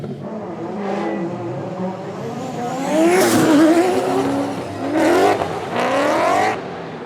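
A drift car in a D1NZ drift series round at Mt Smart Stadium howls at high revs with squealing, skidding tyres, the engine surging and falling in loud waves over about seven seconds.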